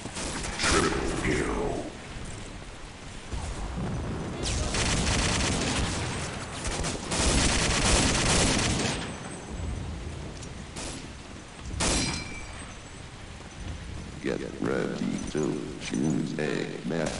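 MG42 machine gun fire in Day of Defeat, heard as bursts of rapid gunfire mixed with other shots, impacts and game noise, mostly under loud, excited talk from players.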